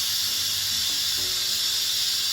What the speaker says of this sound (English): we can instantly depressurize